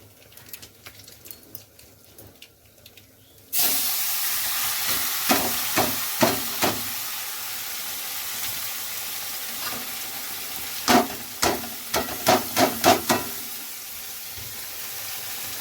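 Taro leaves drop into hot oil seasoned with dried chilli, bay leaf and black cumin, setting off a loud, sudden sizzle that hisses on steadily, punctuated by a few series of sharp crackling pops and stirring clatters.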